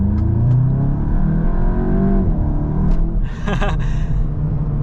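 A VW Golf GTI Clubsport pulls hard in second gear in manual mode, its engine note rising steadily as it accelerates before easing off, with a brief higher burst of sound toward the end, heard from inside the cabin.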